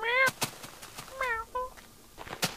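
A cat meows several times in quick bursts in Minecraft, short tonal cries separated by sharp clicks and taps, fairly quiet and close.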